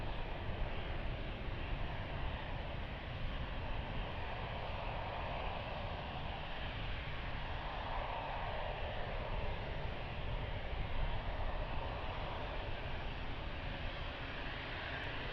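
An aircraft landing at Lisbon Airport on runway 02, a steady broad engine roar heard from a distance, swelling slightly midway and holding at an even level throughout.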